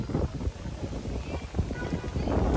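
Outdoors on a city errand, wind buffets the microphone with a steady low rumble that gusts louder and softer throughout the short stretch.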